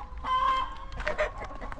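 Chickens and roosters cluck along a trail, a short burst of close, loud clucks and squawks with nobody speaking.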